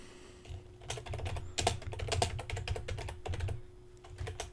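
Steady typing on a computer keyboard, a close run of crisp key clicks in irregular bursts over a low constant hum, no voices.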